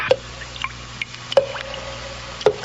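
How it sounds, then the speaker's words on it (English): Liquid drips in a sound effect meant to be dripping blood: three separate, crisp drops land at uneven intervals, close and distinct over a low steady hum. "The sound you hear is dripping blood."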